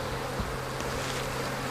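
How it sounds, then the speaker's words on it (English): Africanized and European honeybees swarm at a hive entrance after alarm pheromone is released, producing a dense, steady buzzing drone that holds at an even level throughout. "See how bees respond to the alarm pheromone?"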